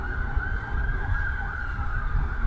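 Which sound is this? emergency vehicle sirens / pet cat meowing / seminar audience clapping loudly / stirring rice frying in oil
emergency vehicle sirens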